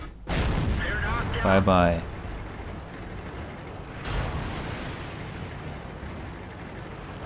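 Heavy IS tank cannon fire in World of Tanks: a loud blast with mechanical clanking, then a second fainter boom, as a voice speaks briefly.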